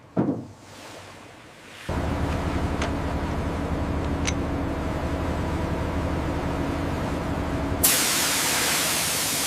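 Pressure hose spraying water to wash recovered gold: after a quiet start, a steady loud hissing spray runs continuously, with a sharper, brighter burst of spray near the end.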